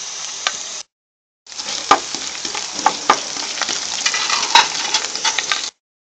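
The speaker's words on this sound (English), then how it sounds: "Put ghee in a pan and we are going to fry the chipped coconut pieces" Chipped coconut pieces frying in ghee in a pan, a steady close sizzle with small pops and stirring clicks, briefly cut off near the start before resuming.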